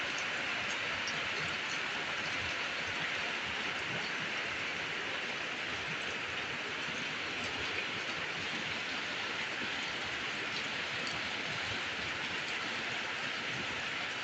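Steady rain falls as a dense, continuous hiss, even and unbroken for the whole stretch at moderate loudness, without any voices.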